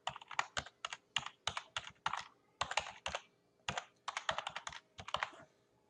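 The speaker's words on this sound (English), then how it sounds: "I could just type in" Typing on a computer keyboard comes as bursts of quick, crisp key clicks in an irregular rhythm, with short pauses between groups, close and clear with no talk.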